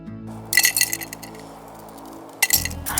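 Icicles clink into a glass outdoors during an ice storm, giving two bright bursts of glassy chinks and rattles, the first longer and the second shorter, fairly close and loud with no talking.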